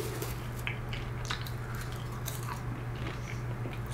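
Close, crisp crunching and chewing of popcorn made with ghee, with irregular bites over a steady low hum in the background.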